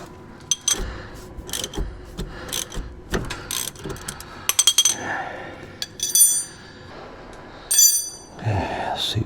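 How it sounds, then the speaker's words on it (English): A wrench clicks and ratchets on 12 mm brake caliper bolts while working on a sticky brake caliper, irregular metallic clinks and short ratcheting runs up close, with some muffled talking. "I gotta get a wrench on here to keep that from turning"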